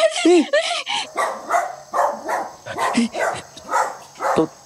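A small dog yaps in a quick series of short, high barks and yips, fairly close, with a few whiny rises between them.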